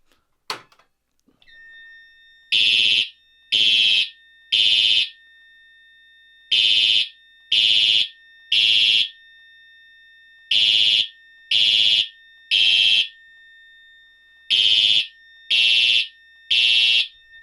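A loud fire alarm sounds the temporal code 3 pattern, beeping in repeating groups of three evenly spaced tones, each group separated by a pause, continuing for several cycles.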